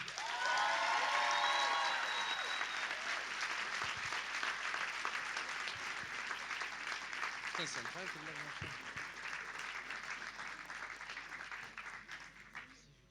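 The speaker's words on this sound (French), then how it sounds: "je demande un tonnerre d'applaudissements pour notre président de cette année, l'acteur Youssef Hachdi" Ceremony audience applauding the actor Youssef Hachdi, this year's president at the Cérémonie des Renards 2024: sustained, dense clapping from a large crowd that stays loud throughout and tails off near the end, with a voice briefly heard over it.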